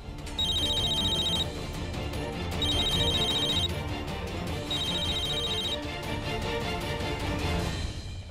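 A telephone rings in three repeated electronic trill bursts over a busy background, moderately loud, with no talking.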